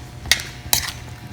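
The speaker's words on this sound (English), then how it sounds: "I'm going to mix it well" Mango pickle with kalonji and jaggery being mixed in a cooking pot, two sharp metallic clinks of a spoon against the pot, close, with quiet between.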